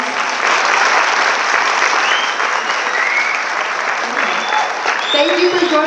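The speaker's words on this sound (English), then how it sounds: "If we can just give her one more round of applause." Steady applause from a high school assembly audience in a gym or auditorium, sustained and fairly loud, fading slightly with a few voices and faint chatter creeping in near the end.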